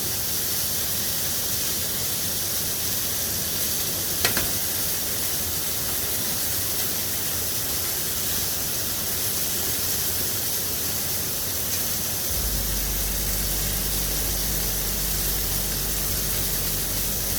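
A sirloin steak sears in a hot pan, giving a steady, loud broadband sizzle and hiss throughout, with one brief tap near the start and a low hum that joins toward the end.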